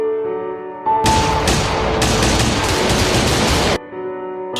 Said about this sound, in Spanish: los disparos retumbaron en mis oídos